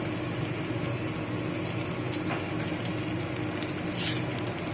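Garlic and black cumin seeds tempering in hot oil for palak dal give a steady, dense sizzle and crackle, even and moderately quiet, with a brief sharper pop near the end and no talking.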